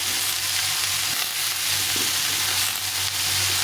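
Pumpkin pieces fry in a pan as a pumpkin dish is cooked, giving a steady, close sizzle with faint stirring scrapes and no talk.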